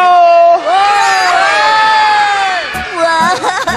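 Children's voices cheer and shout together in a loud burst from a children's TV show audience, whooping in rising tones for a few seconds before trailing off into scattered calls; no distinct clapping stands out.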